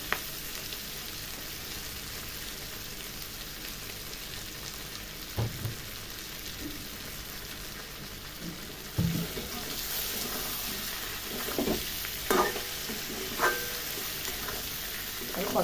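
Vegetables sautéing in a pan for a vegetarian curry, with a steady low sizzle and occasional clinks and scrapes of stirring, faint and close, with no talk.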